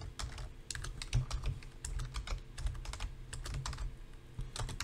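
A search is typed on a computer keyboard: continuous quick keystrokes in short flurries, close and clear over a faint low hum, with no talking.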